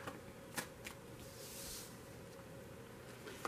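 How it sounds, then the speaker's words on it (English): A tarot card deck is shuffled briefly, giving soft papery riffles and flutters with a few sharper snaps over a steady low room hum, quiet and close with no talking. "so I'm only going to shuffle it for a moment"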